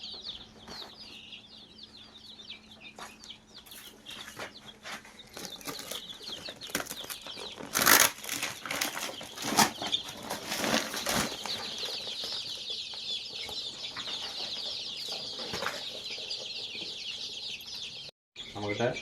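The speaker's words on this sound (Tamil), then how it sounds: "இது எல்லாமே 30 நாட்கள் ஆன கோழி குஞ்சுங்க." A flock of 30-day-old country chicks, just unpacked from a ventilated shipping box on a chicken farm, chirp continuously in a dense high-pitched chorus with bursts of wing flapping and scuffling, close and fairly loud, with a voice occasionally heard.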